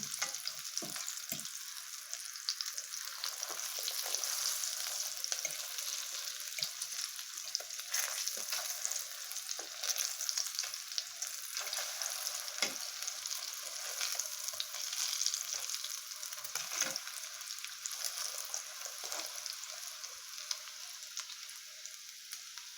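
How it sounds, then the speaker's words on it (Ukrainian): Continuous hissing sizzle of zucchini frying in a pan, dense and even, with a few scrapes and knocks of stirring. "Підсмажимо з іншої сторони до такого золотистого гарного кольору."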